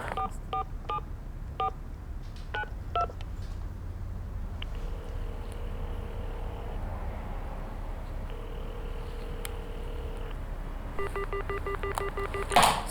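Touch-tone keypad beeps as a telephone number is dialed, several quick clusters of dual-tone presses at the start, then long steady tones of a line trying to connect, and another rapid burst of keypad tones near the end, over a soft room hum.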